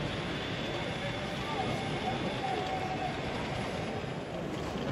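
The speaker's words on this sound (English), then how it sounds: "Here we see a Class Seventy coal Colas livery passing with a rake of empty ballast wagons." A model Class 70 locomotive in Colas livery rumbles past steadily hauling empty ballast wagons, a soft rolling clatter and constant broadband rush that hardly changes throughout.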